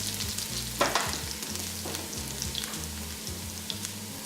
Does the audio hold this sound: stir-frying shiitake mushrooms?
yes